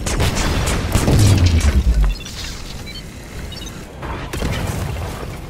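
A deep booming blast from Rocket's weapon shot in Lego Marvel Super Heroes 2, loud and close, with a falling rumble that fades out into quieter game ambience.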